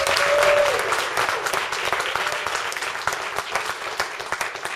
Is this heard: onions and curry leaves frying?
no